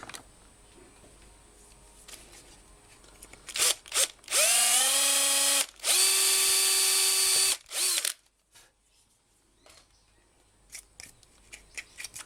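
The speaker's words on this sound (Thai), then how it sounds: "เราจะเจาะแล้วก็ เอาไว้ในตำแหน่งนี้นะฮะ" A power drill bores into the casing of a broken rechargeable Bluetooth speaker, two loud sustained whining bursts with a brief pause between, framed by short bumps and handling clicks close by.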